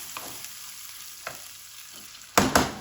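Tomatoes and liver frying in a pan, a soft steady sizzle broken by a few scraping stirs, with two louder, sharper stirring strokes near the end.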